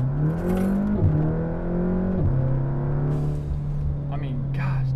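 A flex-fuel tuned MQB car accelerates hard, its engine tone climbing steadily then dropping sharply at each of two quick gear shifts before pulling on, heard loud from inside the cabin.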